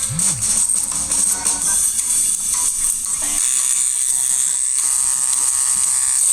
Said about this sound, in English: We're gonna shave some patches and make him scruffy.